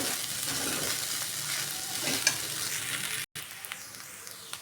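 Sabudana khichdi sizzles steadily as it is sautéed and stirred in a hot pan, a continuous close frying hiss with a brief cut near the end.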